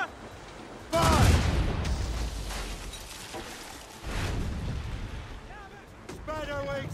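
Ship cannons in the naval game Assassin's Creed Rogue fire with heavy booming blasts, one at about a second in and another near four seconds. Each boom rolls into a long rumbling tail, and shouted voices are heard over the noise.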